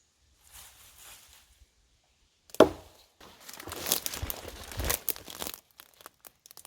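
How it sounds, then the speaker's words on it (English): Cutting something free from tangled vines outdoors: brittle rustling and crunching of stems and leaves, a sharp snap near the middle, then a longer burst of thrashing and tearing foliage. "So now I've got to cut it out of vines."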